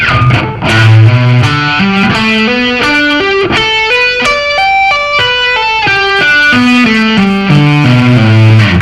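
Slow distorted electric guitar sweep arpeggios, notes climbing and falling in steady stepped patterns, loud and sustained with no talking.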